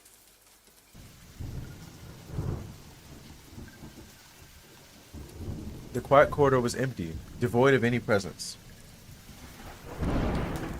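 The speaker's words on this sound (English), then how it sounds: "The surroundings were incredibly quiet, with only the sound of rain outside the window, and the rustling of trees being blown by the wind." Rain patters and thunder rumbles outside a window in a video game, low and steady beneath a calm narrating voice, with a distant roll of thunder toward the end.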